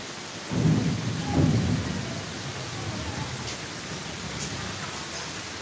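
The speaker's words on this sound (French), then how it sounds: "Actuellement, il continue de pleuvoir très fort." Heavy rain during flooding in Côte d'Ivoire hisses steadily while a low rumble of thunder rolls through near the start and fades out.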